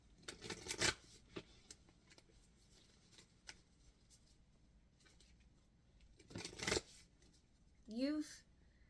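Oracle cards from a Moonology deck being shuffled by hand, with riffling bursts at the start and again near the end, soft scattered card taps between them, and a brief vocal sound at the very end.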